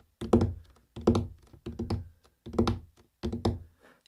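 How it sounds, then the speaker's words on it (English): Fingers drum on the top of a box, giving dull, thuddy knocks in five quick clustered bursts separated by short pauses, close and fairly loud with no talking. "So take your hand and pop on the box. Just can you drum your fingers?"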